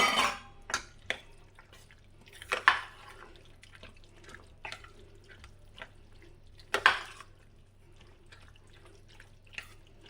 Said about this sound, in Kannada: ಈಗ ಮೊಸರು ಬಟ್ಲಿಗೆ ಸ್ವಲ್ಪ ನೀರು ಹಾಕಿ ಮಿಕ್ಸ್ ಮಾಡ್ಕೊಳ್ಳೋಣ